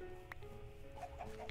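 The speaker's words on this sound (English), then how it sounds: "Don't upset my chickens!" Chickens in Minecraft give a few soft clucks with a rounded tone, faint and close together against a quiet background hum of the game.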